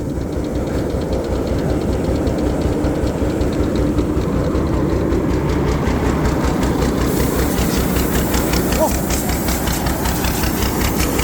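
The engine of a rice combine harvester runs loud and steady at close range, a constant droning rumble with a fast pulsing beat and faint hiss throughout.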